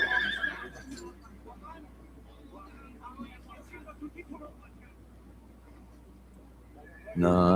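In the video game Call of Duty Black Ops II, a horse gives a short whinny right at the start. Faint game sounds and a person talking follow, then a loud harsh burst at the end.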